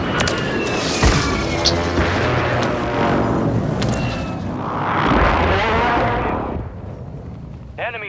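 Artillery strike explosions in the Call of Duty Warzone Resurgence video game: several deep, booming blasts with rolling noise build and fade over about eight seconds, loud and close, with a brief sharp burst near the end.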